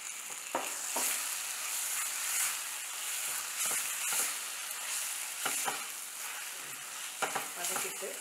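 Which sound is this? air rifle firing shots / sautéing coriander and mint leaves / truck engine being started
sautéing coriander and mint leaves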